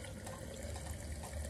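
A drink pours from a mason jar and spills over, making a soft, steady trickle of liquid that runs faintly and alone for a moment.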